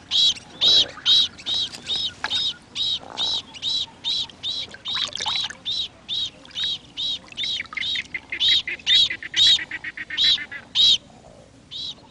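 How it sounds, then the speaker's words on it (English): Lotus bird calling by its nest as a water python approaches, a rapid run of loud, sharp repeated calls in steady pulses, with brief gaps and a soft splash of water. "When the lotus bird glimpses Boloko, the water python, he is ready to defend his nest."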